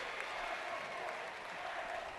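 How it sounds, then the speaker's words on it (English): A crowd at a 2012 Class 4A boys' basketball quarterfinal keeps up steady, fairly distant applause for the Kennedy Commanders, with no pauses. "Kennedy will finish off as you hear the applause on behalf of the Kennedy Commanders"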